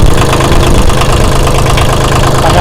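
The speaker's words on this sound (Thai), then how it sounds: "บิดสตาร์ได้เลยนะครับเร่งนิดนึง" A Kubota L2201 tractor diesel engine runs loud and close, with a dense knocking rumble that holds steady and slightly rises as it is revved.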